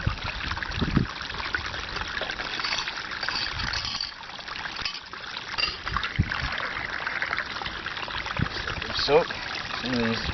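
Water fills a container quickly with an off-grid RV water supply, a steady trickling, pouring rush close by that runs the whole time beneath a person speaking.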